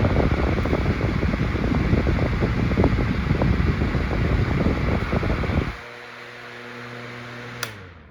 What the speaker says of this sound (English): if you happen to come across any of these little 8-inch fans, these are definitely overachievers